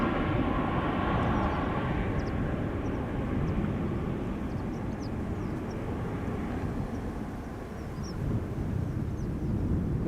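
Aircraft making a flyby at Amsterdam Schiphol Airport, a heavy low engine roar that swells and eases across the span, distant and rumbling with some wind noise.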